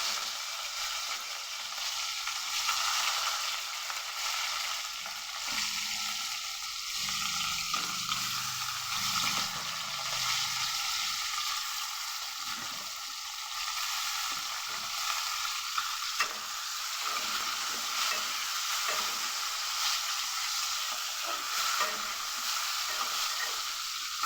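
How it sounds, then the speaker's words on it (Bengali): Chopped fish pieces fry in hot oil over a high flame, with a loud, steady sizzle and occasional stirring that run without pause for the whole stretch, with no voices. "প্রথমে তেলের মধ্যে এই কুচিয়ে রাখা মাছগুলোকে ভালো করে ভেজে নেব।"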